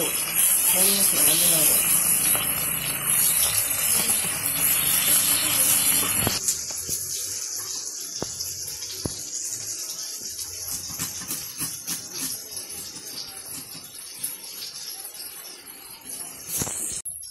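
Fish sizzle and hiss loudly in hot oil in a Bangladeshi village kitchen, a dense spattering rush that drops to a quieter crackle partway through, with scattered pops and voices talking nearby.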